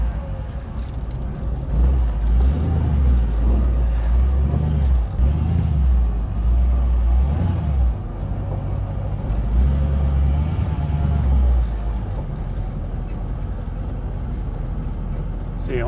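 A Dodge W200 truck's engine chugs low and steady at about 20 miles per hour, a continuous close rumble with small surges and dips throughout.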